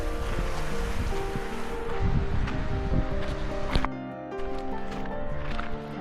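Sea waves around the island fort of Arnala near Virar: steady surf washing and wind, with a droning motor-like hum running through it. No one talks.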